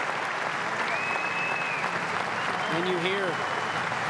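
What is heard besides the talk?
arena crowd clapping at a judo match in Zagreb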